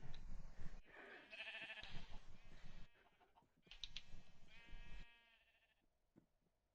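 Sheep in Minecraft bleat several times in quick succession, wavering nasal calls that rise and fall over the span, fairly close and clear with no talk over them.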